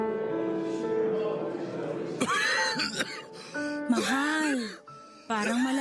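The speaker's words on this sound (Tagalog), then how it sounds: "parang malala na yung ubo mo ah" A few rough coughs and throat-clearing bursts break up strained vocal sounds, close by and fairly loud.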